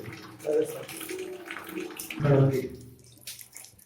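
A tap in an apartment runs during pipeline cleaning work, a steady rush of flowing water that swells and fades under intermittent talking.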